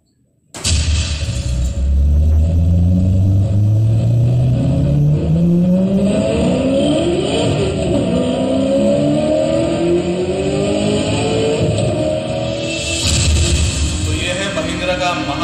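Engine of a Mahindra Bolero pickup revving loudly at a launch reveal, rising steadily in pitch and holding a sustained roar with layered harmonics, blended with event music and crowd noise throughout.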